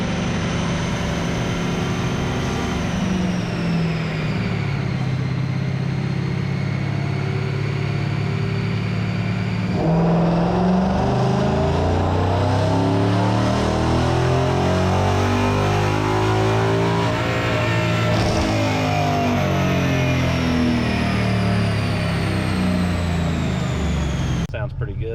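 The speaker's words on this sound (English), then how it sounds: "The catback is actually already on the car, so you'll hear that in a dyno clip." Car on a dyno fitted with long tube headers and a catback exhaust, revving repeatedly through rising and falling engine sweeps, loud and sustained, with a voice talking over it.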